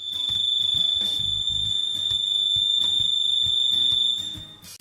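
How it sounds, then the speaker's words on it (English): Arlo Pro 2 security camera's built-in alarm siren blaring a loud, steady high-pitched electronic tone continuously, with faint background clatter underneath. "a built-in alarm, and it can be set to automatically trigger when motion is detected"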